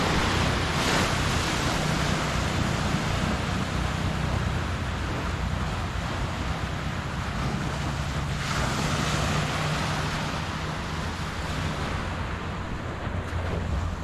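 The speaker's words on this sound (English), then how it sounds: "The waves are like 0 to 2 feet." Calm, small surf washes steadily onto the beach at Waikiki, a continuous soft roar of breaking water with some wind buffeting the microphone and no voices.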